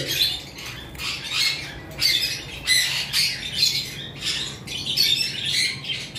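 English budgerigars, a breeding pair including an albino, squawk and chatter nonstop at a bird farm, bursts of harsh chirps coming in quick repeated waves, close and fairly loud, with no talking.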